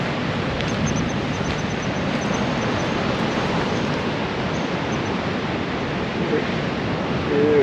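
Ocean water surging at high tide against carved coastal rock near caves at Elliston, a broad steady roaring wash with wind over the microphone, rising slightly at the end.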